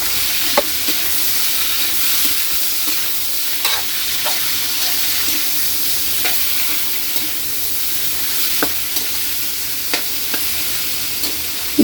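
Pork is stirred into sizzling garlic and onion in a hot pan; a steady loud frying hiss runs throughout, broken by occasional sharp scrapes and clinks of the utensil against the pan.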